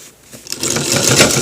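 A sewing machine stitching a shirt collar starts up from quiet and builds to a steady, loud run within a second.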